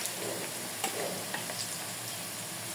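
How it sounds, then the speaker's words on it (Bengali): Onions sizzle and fry steadily in a kadai for mung dal, with a continuous close hiss and a couple of soft stirring clicks, no talking. "এই যে আমার পেঁয়াজটা হালকা ব্রাউন কালার হচ্ছে"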